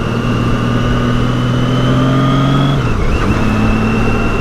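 A 2002 Honda GL1800 Goldwing motorcycle cruising on a noisy road, its steady engine drone close and loud, with a brief dip in pitch partway through as the engine shifts, then holding steady again.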